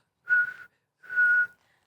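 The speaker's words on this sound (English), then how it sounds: "Life-saving whistle." Two sustained blasts from a life-saving whistle, each about half a second long, shrill and steady, with a short pause between them and no talking.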